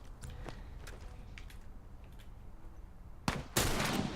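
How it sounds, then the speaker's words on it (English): Hunting rifle fire in The Last of Us Remastered during a lakeside resort battle: two sharp, loud blasts near the end, after a stretch of quieter rustling and footsteps. "Time for the hunting rifle."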